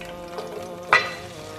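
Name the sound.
onions frying with whole spices in a pot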